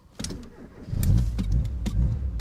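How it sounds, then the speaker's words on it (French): A car engine cranks and catches after the ignition is switched on and a red start button pressed, then settles into a loud, close, steady low rumble. "je mets le contact et j'appuie sur le bouton rouge"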